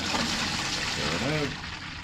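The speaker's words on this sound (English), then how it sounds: "I'm going to fill a watering can, the green one, with water" Water pours steadily from a farm hydrant into a green watering can, a continuous close rushing fill with faint voices in the background.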